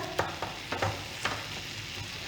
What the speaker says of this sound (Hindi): और इसे एक फ्राई पैन में पकाते हैं।